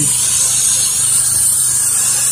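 A pressure washer rinses a concrete driveway between cleaning passes, a steady loud hissing spray running continuously at close range with a low motor rumble beneath it.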